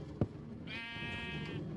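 A single drawn-out bleat from a Minecraft sheep, fairly close and quiet, preceded by a soft thump against low ambient game sound.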